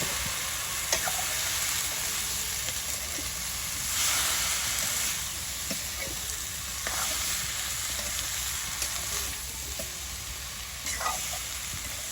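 Sponge gourd pieces fry in a hot pan during village cooking, giving a dense, continuous close sizzle and hiss with occasional stirring scrapes and taps throughout; no one speaks.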